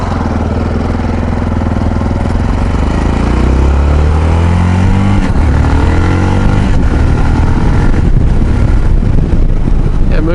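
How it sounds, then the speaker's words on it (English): A Yamaha XT660Z Tenere single-cylinder motorcycle is ridden, its thumping engine loud and close, rising in pitch as it accelerates through the gears, with wind noise over it. "Moves along quite well for a single cylinder thumper."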